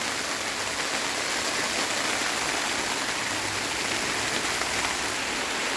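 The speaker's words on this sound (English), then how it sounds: "This is what we're known for, our rain. Listen to that." Heavy rain mixed with some hail pours down in Washington State, a dense, steady hiss and patter filling the whole stretch with no talking.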